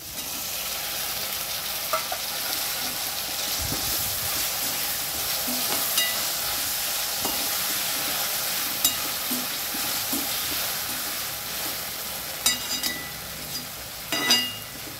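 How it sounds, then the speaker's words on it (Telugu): Tomatoes frying and sizzling steadily in a pan for tomato rice, with a spoon stirring and occasional clinks against the pan; no talk. "ఇప్పుడు ఈ టమాటాలను వేసుకోవాలి."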